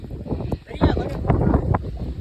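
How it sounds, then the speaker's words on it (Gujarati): Wind gusts buffet the microphone outdoors in rainy weather near a hilltop temple, a steady rough rush with stronger surges, and voices are heard talking over it. "મસ્ત મજાનો પવન આવે છે અહીંયા"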